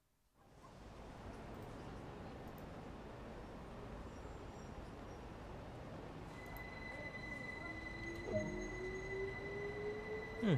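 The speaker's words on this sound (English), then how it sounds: "I just love the sound of that train." Electrostar electric multiple-unit train at Brighton Station on the East Coastway in Train Sim World, a steady loud rolling rumble with rising wheel and motor whine toward the end, no voices.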